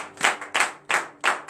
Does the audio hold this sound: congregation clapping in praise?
yes